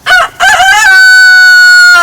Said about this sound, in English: Still got that rooster in there.